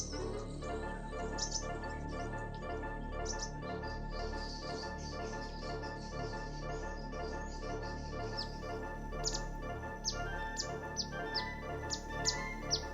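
Forest birds calling in Assam, with repeated high chirps and tweets over a steady layered background of insect-like drone, growing brighter and more frequent toward the end, no voices.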